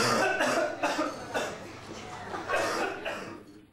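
A short burst of coughs and throat clearing from a man in a Dutch talk-show setting, loud and close, with a few separate bursts that fade toward the end.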